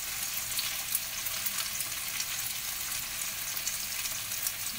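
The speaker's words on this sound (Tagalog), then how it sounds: "Pre-prito lang natin mga hanggang 5 minutes." Steady, dense sizzling of chicken frying in hot oil in a pan for adobo, crackling continuously and close without pause.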